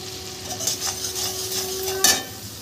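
Spices with chili powder being stirred and fried in a pan, giving a soft steady sizzle with scraping strokes of a utensil and a sharper clatter near the end, plus a faint steady tone underneath.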